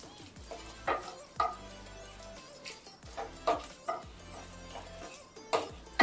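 Bay leaves, a whole dried chilli and cumin seeds frying in hot oil, with soft sizzling under intermittent stirring and spoon taps against the pan, close and fairly quiet.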